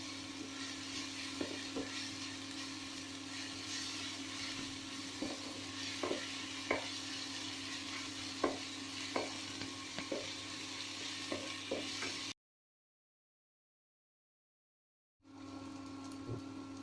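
Onion, green chillies and ginger-garlic paste frying in a pan, a quiet continuous sizzle dotted with light stirring ticks and scrapes, then a stretch of total silence before the sizzle resumes.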